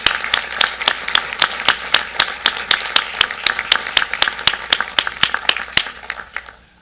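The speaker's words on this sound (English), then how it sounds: "So let's give her a round of applause." A single person's sharp, evenly spaced claps ring out close by at a college charter day ceremony honoring a teacher, a regular rhythmic beat over a faint murmur of a crowd.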